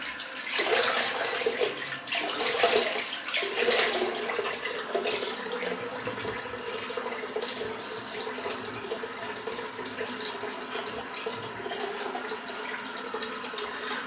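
Hot water runs steadily from a tap into a sink or basin during a head and face shave, a continuous, moderately quiet splashing rush with no talking over it.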